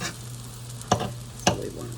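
A crepe sizzles quietly in a hot pan after being flipped, a steady low frying hiss broken by two brief scraping stirs or pan sounds, with no talking.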